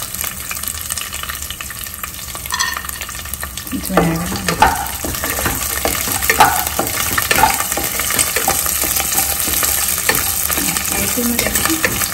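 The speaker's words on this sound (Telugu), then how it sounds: "ఒకసారి ఇది జస్ట్ జీడిపప్పు ఒక్కసారి వేగిన తర్వాత అవి కొంచెం వేగినాయి కదా రామలక్ష్మి." Cashews fry in a hot tempering for coconut rice, giving a steady sizzle with repeated scraping stirs of a spoon in the pan, close and continuous, with no voices.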